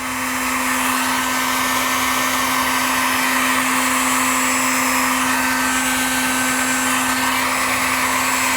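A heat gun blows hot air to shrink heat-shrink tubing on lighting wiring for a Land Cruiser, a continuous loud whooshing hum with a steady tonal drone, unbroken for the whole stretch, no talking.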